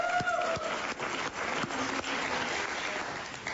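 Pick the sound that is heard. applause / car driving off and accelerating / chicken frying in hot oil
applause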